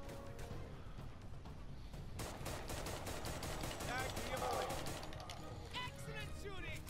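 Rapid gunfire in the World War II shooter Raid: World War II during a gold rush heist, bursts of automatic fire and repeated shots crackling fairly close, with voices talking over the shooting.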